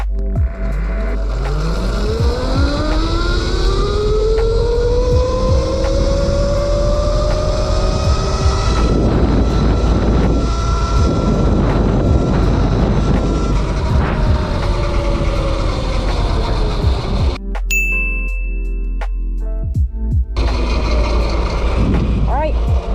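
A Yozma IN 10 RC car accelerates in its fastest mode, the electric motor whine climbing steadily in pitch, then holding a loud high scream for several seconds before cutting off abruptly.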